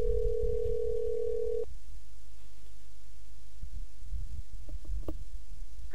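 A telephone tone sounds alone for under two seconds, a steady line from a call placed to a hotel room, then quiet line hiss follows with a few faint clicks and a brief ringing burst at the very end.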